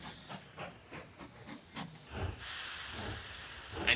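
A train's whistle sounds in Mashinky, a rail tycoon video game: a steady steam hiss rises and holds near the end over a soft rhythmic chugging. No voices are heard.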